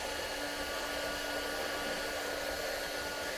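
A Leister Nexheat 300 cordless hot air welder blows a steady, even rushing hiss with a faint high whine, constant and close with no talk.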